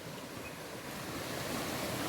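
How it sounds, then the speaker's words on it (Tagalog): Clean river water rushing steadily during a mountain hike in the Philippines, a broad continuous wash of flow that swells slightly louder toward the end, with no voices. "May ilog na naman kami nadaanan."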